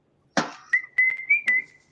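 A person whistles a short tune close by in a quiet room, a sharp noise first, then a few brief clear high notes in quick succession, with no talking.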